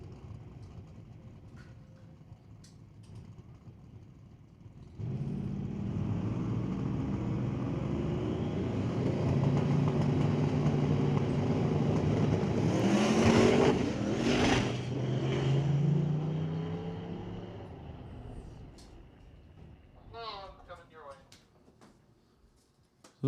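A turbocharged blue Chevrolet Nova drag car launches down the eighth-mile strip, its engine note swelling into a loud sustained roar for about ten seconds before fading, with a track announcer talking throughout.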